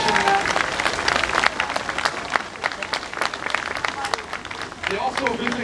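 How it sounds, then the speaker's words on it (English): A crowd at an outdoor pep rally on a San Francisco plaza before a college bowl game claps and applauds for both teams, a steady, fairly loud patter of many hands with voices mixed in. "So a round of applause for both teams"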